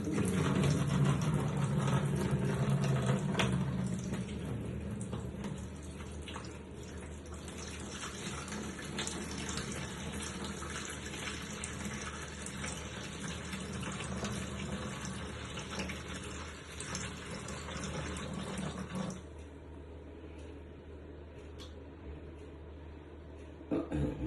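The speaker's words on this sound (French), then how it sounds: "On va vider l'eau." Water is emptied from a container during the final rinse of a homemade ormus batch, a steady pouring and splashing wash that runs continuously and fairly loud, easing off toward the end.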